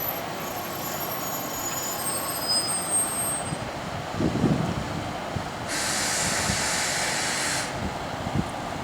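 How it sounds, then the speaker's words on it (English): At a station on the Seaford Line in Adelaide, an electric train sits waiting amid faint ambient noise, with a thin high whistle early on and a brief burst of hissing squeal later, all fairly quiet. "An electric train waiting for departure of the city."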